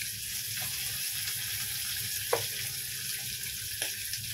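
Continuous hissing sizzle of fish frying in hot oil, with a couple of small clinks or pops; no talking.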